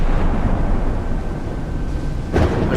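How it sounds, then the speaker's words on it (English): Heavy 16-inch battleship guns fire in the naval combat game Sea Power, a deep rumbling roar that fills the clip, followed by a sharper blast near the end. "That Tycho's about to go down into 16-inch gunfire."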